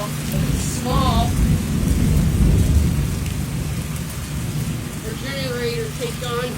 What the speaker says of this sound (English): Start to hail. It's small.